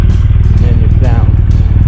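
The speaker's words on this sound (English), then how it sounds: "The exhaust is hitting behind the bag. Very revvy, sporty kind of feel." A nearby motorcycle exhaust barks and revs briefly, the engine note rising sharply in quick throttle blips over a loud low rumble.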